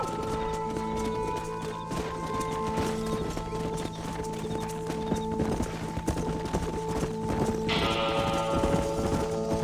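Steady clip-clop of horse hooves galloping in Red Dead Redemption over a constant background hum and music, with occasional whinnies; busy, continuous and fairly loud.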